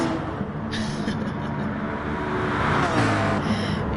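A mid-engined Honda NSX GT3 race car in a racing video game at the Red Bull Ring, with a steady, loud engine roar and road noise that swells slightly toward the end.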